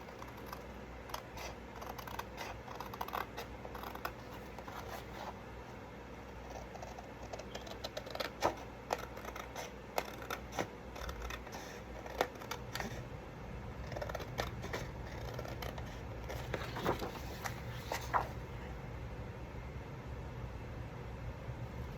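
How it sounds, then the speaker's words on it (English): Scissors cut through paper near an altered FedEx envelope craft project, a faint series of irregular snipping and rustling strokes spread across the stretch, quiet and close with no talking. "so let's cut our paper"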